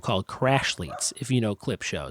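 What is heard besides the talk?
dog barking at a possum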